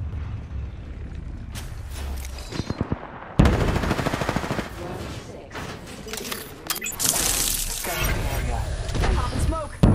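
Rapid automatic gunfire and bursts of shots in a combat video game, with thuds and mechanical clatter, dense and loud throughout most of the stretch, with a voice talking over the fighting.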